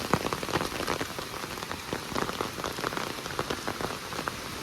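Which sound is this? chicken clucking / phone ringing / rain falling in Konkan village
rain falling in Konkan village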